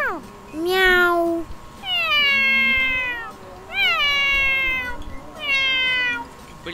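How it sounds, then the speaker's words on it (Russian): Cat meowing in the Yeralash-Land video game: four drawn-out, sliding meows arrive one after another over a faint steady tone. "Мяу, мяу, мяу, мяу"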